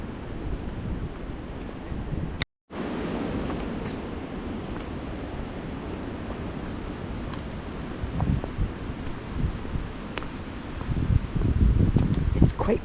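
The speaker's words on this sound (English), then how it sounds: "I can hear the wind above me." Wind rushing through the treetops above a hiking trail in the woods, a steady broad whooshing roar with occasional gusts and rustling, building louder toward the end, with a brief dropout early on.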